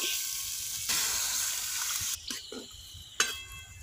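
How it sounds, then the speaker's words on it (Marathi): Spiced tempering cooking over a wood-fired stove hisses loudly, then water is poured in and the sizzle drops off abruptly into quieter bubbling with a few splashy bursts. "आता ओतणार आहे पाणी।"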